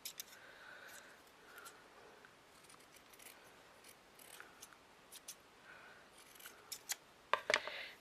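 Scissors snip fabric for the sleeve of a miniature witch doll in quiet, scattered, fairly faint cuts, with a brief louder cluster of snips near the end.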